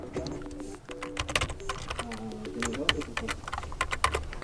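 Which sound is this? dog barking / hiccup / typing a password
typing a password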